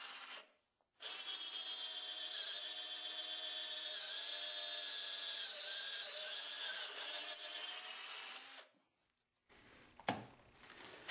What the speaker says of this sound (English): I have a 1/4 inch drill bit in my hand drill